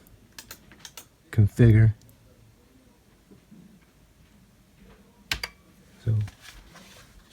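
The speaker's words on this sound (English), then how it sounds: "just still using the keyboard at this point in time" A few short bursts of computer keyboard typing while setting up a game controller on a Raspberry Pi–modded Arcade1Up cabinet, clustered clicks separated by quiet gaps, with someone speaking briefly.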